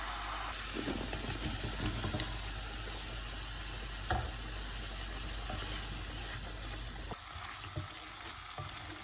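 Tomato and broad bean seeds frying with spices in a pan for a rohu fish curry with bean seeds: a steady, close, dense sizzle with occasional stirring scrapes and knocks, heard alone.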